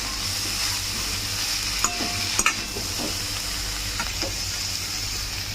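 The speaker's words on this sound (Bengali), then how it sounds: "এবারে আলুগুলো ভালো করে ভেজে নেব।" Potatoes frying in a pan for a potato sandwich filling, a loud, continuous sizzle close up, with a few clinks and scrapes as the pieces are turned.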